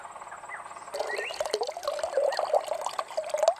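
Water is poured into a container of beeswax to wash out the remaining honey, a close, uneven splashing and gurgling that starts abruptly and runs steadily, with no one speaking.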